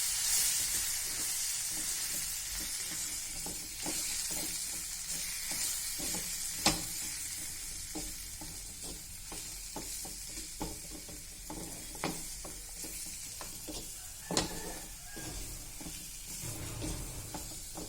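A capsicum vegetable dish is stirred in a sizzling pan, with a steady fry hiss under repeated scraping strokes and a few sharper clanks of the utensil against the pan.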